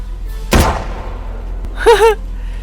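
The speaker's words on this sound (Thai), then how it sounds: "เสียงปืนโคตรเอ๋อแอนิเมชันปืนโคตรสวะ" Gunshots from a firearm in the survival video game Sons Of The Forest: one sharp, loud report with a decaying tail, followed over a second later by a shorter, weaker crack, with a brief voice-like warble near the end.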